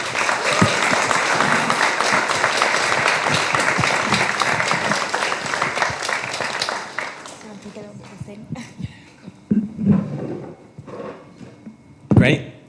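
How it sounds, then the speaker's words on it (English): Audience applause welcomes a panel onto the stage at a talk event, loud and sustained for about seven seconds before thinning into scattered claps, footsteps and shuffling as people take seats, with voices nearby. "Let's invite everyone up with a big round of applause."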